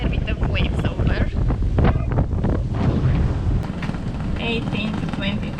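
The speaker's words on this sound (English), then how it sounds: "18 to 22 knots of wind." Strong 18 to 22 knot wind roars across a Hallberg Rassy 54 sailboat at sea, heavy gusty buffeting with wave wash, loud and continuous, while people talk.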